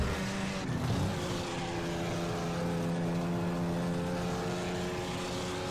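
Cars racing in the PS4 game Flatout 4, with engines droning loudly and steadily, a brief pitch drop early on as a car shifts, then a sustained roar.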